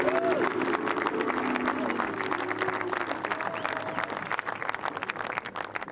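A golf gallery at the 147th Open Championship at Carnoustie applauds and calls out for Matt Kuchar, sustained clapping and crowd noise with a commentator talking over it.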